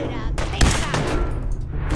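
Gunfire in the video game Fallout 4, a burst of several loud, sharp shots in quick succession over about two seconds.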